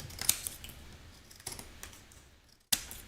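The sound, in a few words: trimming excess mirror board off a card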